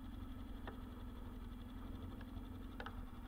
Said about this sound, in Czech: Tak vole, ta motorka to dá úplně v pohodě.